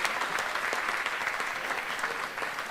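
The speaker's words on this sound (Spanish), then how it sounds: "así que guarden aplausos para Aneke, que ya está preparada" Conference audience applauding steadily and loudly throughout, a dense wash of many hands clapping at close range with no break.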